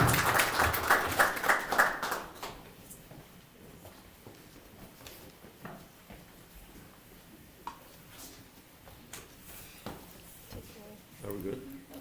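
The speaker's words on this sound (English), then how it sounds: "Let's give them a round of applause." Applause from a lecture audience at an architecture talk: a short burst of clapping that fades within about two seconds, leaving quiet room sounds.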